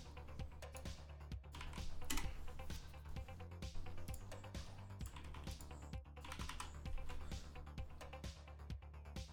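Steady, fast typing on a computer keyboard while a search term for a web design company is entered, with dense close key clicks running without a break for several seconds.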